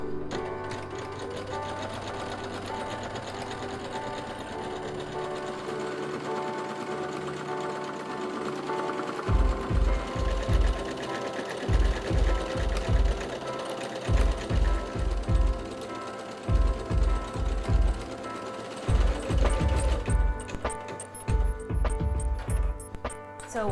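An embroidery machine stitches out a design, starting with a steady mechanical whir and then settling into loud, rapid, rhythmic needle thumping in repeated bursts with brief pauses, close by and without talk.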